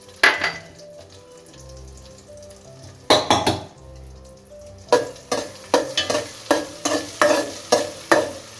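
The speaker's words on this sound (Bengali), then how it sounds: "কাঁচা লঙ্কাটাও দিয়ে দিলাম" Green chillies are stir-fried in a pan for prawn rice, with a soft sizzle under loud, rhythmic spatula scrapes and clanks that grow quicker toward the end.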